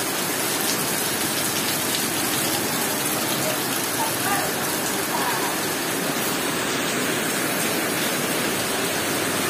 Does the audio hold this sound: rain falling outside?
yes